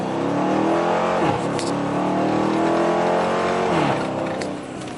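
A 2015 Dodge Charger R/T on 26-inch Forgiato wheels launches from 0-60 in sport mode with traction control on, its engine roaring loud and steady as the wheels spin and the tires squeal throughout.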